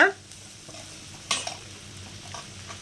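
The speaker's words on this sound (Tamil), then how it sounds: "ஸ்டவ் வந்துட்டு ஹை ஃப்ளேமில் வச்சுட்டு நீங்கள் நல்லா கிளறி விட்டுருங்க" Egg fry stirred in a pan over a high flame, with a soft continuous sizzle and a few scraping strokes of a spatula, one sharper clank near the middle.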